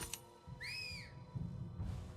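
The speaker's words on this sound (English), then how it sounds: "Whistle." A whistle in the video game Nioh 3 gives one clear rising-and-falling tone lasting about half a second, followed by low rustling game sounds, with no talk over it.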